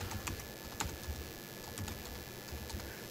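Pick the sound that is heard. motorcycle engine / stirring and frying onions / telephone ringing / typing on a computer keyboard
typing on a computer keyboard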